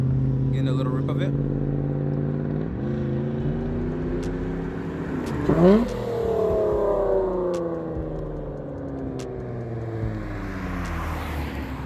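A third-generation Acura TL at a car meet idles, then revs in a quick rising rip before easing back, with people talking nearby throughout.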